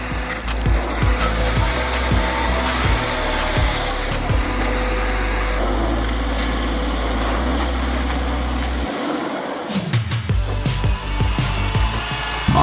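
A Komatsu 875 logging harvester working on a steep snowy slope feeds timber continuously through its processing head, a loud sustained mechanical drone with repeated woody knocks and scraping, ending in a brief drop before resuming.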